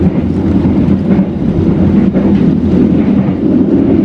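Heavy rain pounds and splashes against the body of the Tegal Bahari economy train as it runs toward Jakarta, a loud, dense, unbroken hiss and roar over the low rumble of the moving carriage.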